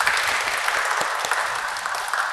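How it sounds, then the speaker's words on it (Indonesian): An audience at a talk-show interview claps, a dense and loud wash of applause that holds steady for a couple of seconds with no voices over it. "kita beri aplaus dulu mungkin ya"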